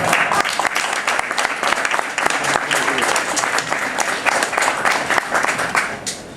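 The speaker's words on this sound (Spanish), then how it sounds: "ahora me aplauden y listo" A crowd applauds, dense clapping filling the room at a steady level before tapering slightly at the end.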